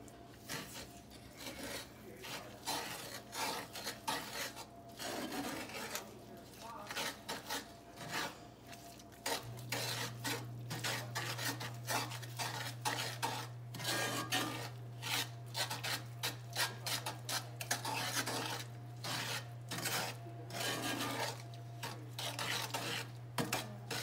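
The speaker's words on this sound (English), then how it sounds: "Gotta mix them in one at a time." Eggs being mixed one at a time into brownie batter in a bowl, rhythmic close scraping and rubbing strokes continuing steadily, with a low background hum and occasional faint voices.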